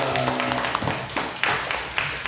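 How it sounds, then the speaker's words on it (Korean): A church congregation at a Sunday afternoon service claps in praise, a short burst of uneven, close hand claps mixed with voices speaking over them. "주님께 영광의 박수."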